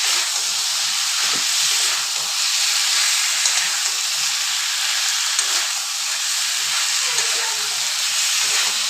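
Water poured into spiced chicken masala in a hot pan sets off a loud, broad hiss of steam and sizzle that holds steady for the whole stretch, close and strong.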